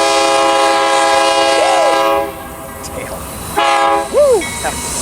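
A Union Pacific freight train at Tehachapi blares its horn loud and close in one long sustained chord that cuts off midway, leaving a rumbling pass, while a man whoops excitedly twice over the noise.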